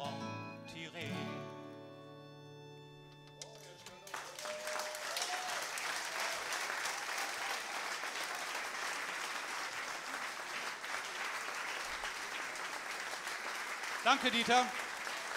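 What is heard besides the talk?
audience applause at a festival concert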